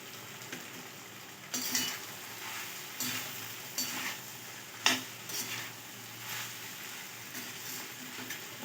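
Kantoli wild vegetable with crushed peanuts being stir-fried in a pan: a soft, steady sizzle broken by repeated sharp scrapes and clinks of a spoon against the pan at irregular intervals, close and fairly quiet, with no talking.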